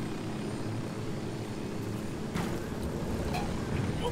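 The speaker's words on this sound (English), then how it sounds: "Just taking their own helicopter and just using it against them." A helicopter in the video game Ghost Recon: Wildlands, a continuous low rotor and engine drone that stays loud and even throughout.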